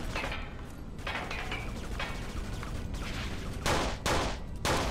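Gunfire in the Kane & Lynch 2: Dog Days video game, several bursts of shots with rapid fire crackling, heavier blasts toward the end over a busy background.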